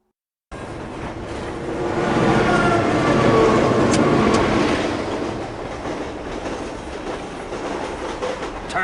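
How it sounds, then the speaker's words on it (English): A train in the Spider-Man 2 video game rumbles past with a steady roar of wheels and carriages, swelling louder through the middle and then easing off slightly, with no talk. "This is the game's rendition of the movie's famous train scene."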